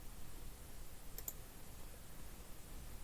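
Two quick, faint computer mouse clicks land close together against a quiet room hiss while craft cutting-design software is used.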